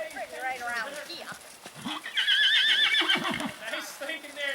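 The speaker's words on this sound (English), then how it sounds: "This is pretty nice for 3 horses in here right now." Several horses being ridden together outdoors, one neighing loudly with a wavering whinny near the middle, with hoof sounds and people talking throughout.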